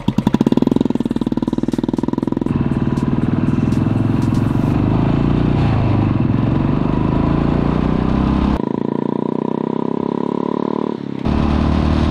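Two motorcycles, a Royal Enfield Bullet and an electric bike, launching off the line in a drag race, with a loud, steady engine roar and clatter that holds through most of the run, then breaks off and resumes near the end.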